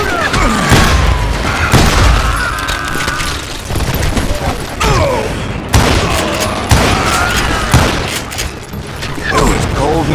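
Rapid bursts of gunfire ring out in a Red Dead video game shootout, loud and continuous, with overlapping shots and booming impacts throughout.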